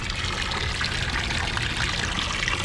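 Water pours steadily from a DIY pond filter upgrade back into a small garden pond, a dense, continuous splashing and trickling that is close and fairly loud with no break.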